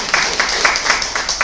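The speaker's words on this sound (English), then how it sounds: "Give them a round of applause" An audience at a speaking event bursts into a short round of applause, a dense patter of clapping hands that swells in quick pulses over a second and a half.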